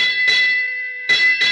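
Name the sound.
ship's bell striking seven bells, radio drama effect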